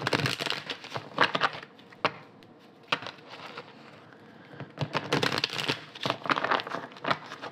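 A Lenormand card deck being cut and shuffled by hand gives close, soft papery slaps and riffling rustles in irregular bursts, with a quieter pause in the middle.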